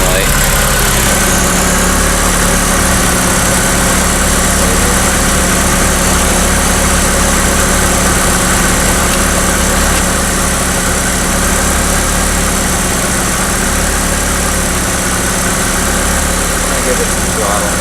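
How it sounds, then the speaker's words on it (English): A Mazda Miata's engine idles steadily and loudly up close throughout, with a constant low rumble and vibration and no break in the drone. "the car is actually running okay right now"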